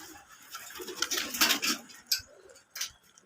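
Domestic pigeons kept as pets cooing close by, with several soft bursts of calls and rustling across a few seconds, no talk.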